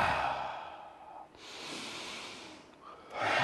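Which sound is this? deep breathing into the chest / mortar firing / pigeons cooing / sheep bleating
deep breathing into the chest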